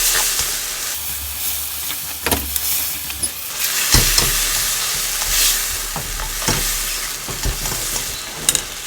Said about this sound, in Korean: 후추 적당히 끓여주고 섞습니다